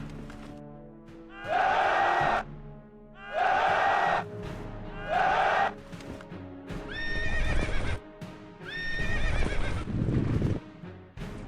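Horses in a Field of Glory video game battle neigh and whinny in several loud, drawn-out bursts over a clip-clopping hoof rhythm, with the later calls overlapping a rumbling battle din.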